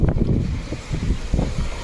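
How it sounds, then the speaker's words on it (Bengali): Strong wind blows over a rough river in the Sundarbans, buffeting the microphone with a low, continuous roar that swells and eases briefly; no voices. "প্রচুর হাওয়া দিচ্ছে আর হাওয়ার কারণে এত ঢেউ হচ্ছে"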